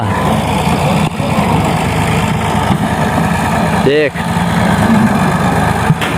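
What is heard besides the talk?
tractor engine running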